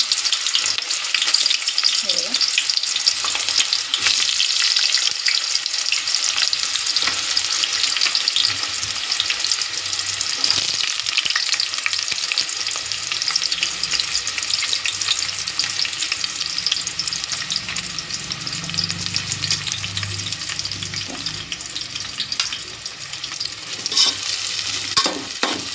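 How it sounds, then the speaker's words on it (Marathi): Onion frying in very hot oil for a veg paneer biryani, a steady loud broadband sizzle with occasional stirring scrapes running the whole time, no talking. "कांदा फ्राय करून घेऊया आपण"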